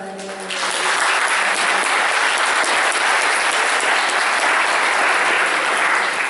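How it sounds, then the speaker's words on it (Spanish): An audience at an academic political science forum gives warm applause to welcome Dr. Laurence Whitehead. A voice briefly finishes speaking, then loud, sustained clapping from many hands fills the room. "les pido un caluroso aplauso para la"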